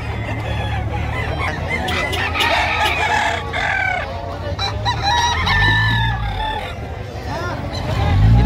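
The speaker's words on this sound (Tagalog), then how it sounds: "Napakagandang manok." A rooster crows loudly nearby amid repeated clucking from chickens, with a few other fowl calls and faint background voices.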